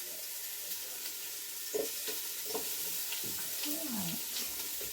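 Onions cooking in a Ninja 15-in-1 pot on a slow cook setting, a steady hissing sizzle throughout with a few soft stirring knocks and faint scrapes, close and quiet.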